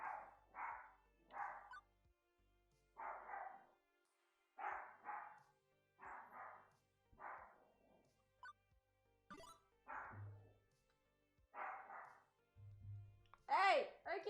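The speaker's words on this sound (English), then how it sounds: "He just came running in here and barking." A dog barks in short repeated bursts, fairly close and clear, with pauses between barks and a higher yip or whine near the end; people talk in between.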